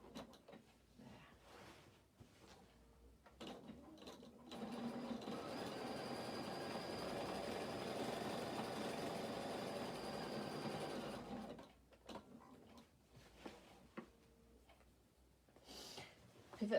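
A sewing machine stitches a denim skirt in one steady whirring run of about six seconds, with soft clicks and handling noises before and after.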